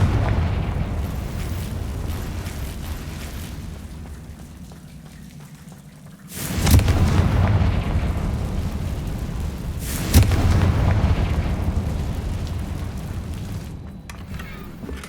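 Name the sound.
Confringo explosive spell blasts in video game Hogwarts Legacy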